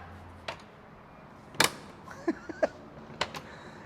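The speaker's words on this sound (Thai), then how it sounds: "ฟังเสียงประตูนะ" On a Mercedes-Benz AMG G63, a car door shuts with a sharp, solid thunk, preceded and followed by small clicks and latch sounds close by in a quiet interior.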